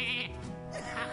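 Sheep bleating in the Hearthstone card video game, a single wavering, harmonic bleat lasting about a second, loud and clear with no talk over it.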